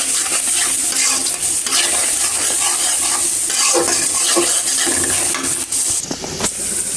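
Onions fry in oil in a pan while being stirred, a loud continuous sizzle broken by scraping spatula strokes and a few clattering knocks toward the end.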